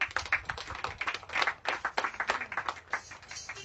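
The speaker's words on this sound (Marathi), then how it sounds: "तिच्यासाठी एक टाळी वाजवा।" A church congregation claps for a woman who served as a pastor, giving a loose, uneven burst of hand claps that rises and falls in irregular pulses at moderate volume.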